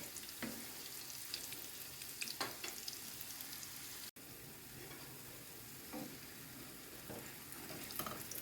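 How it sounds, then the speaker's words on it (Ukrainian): Steady crackling sizzle of potato patties frying in a hot pan, with occasional scrapes and stirring clatter, close and continuous. "Ось так смажаться мої лежні."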